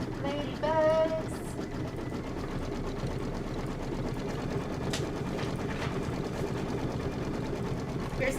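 Embroidery machine stitching appliqué ladybug quilt blocks, a steady close mechanical whir with rapid rhythmic needle chatter that runs unbroken through the clip.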